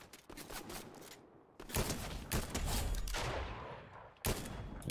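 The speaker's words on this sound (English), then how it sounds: "Al, they're shooting over this way, too." Rapid bursts of gunfire in the video game Fortnite, loud and dense, with repeated volleys and brief gaps across the stretch, and no voices over them.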